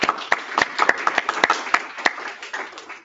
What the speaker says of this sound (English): So big applause for them for all this volunteer work that they want to do.